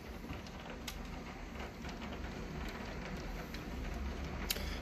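Rain strikes a glass window, a faint steady patter with occasional sharper taps and clinks against the pane, quiet and continuous with no voices.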